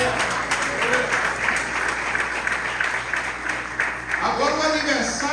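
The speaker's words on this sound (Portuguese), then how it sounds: "Pode aplaudir a Deus." Church congregation clapping, a dense sustained applause filling the room at steady volume, with voices mixed into it.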